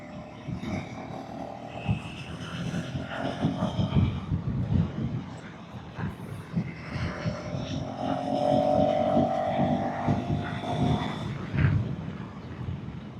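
A motorcycle accelerates on a rural road in India, its engine note climbing steadily under heavy wind rush, with a voice talking over it at times.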